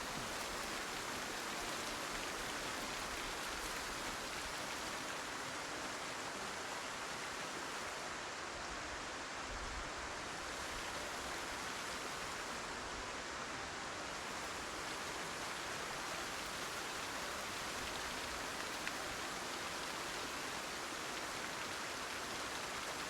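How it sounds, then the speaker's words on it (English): Steady, dense rain falling in the video game Project Zomboid, a constant even hiss of downpour that continues unbroken throughout, with no voices over it. "Ideally, I should wait till it stops raining to go sleep."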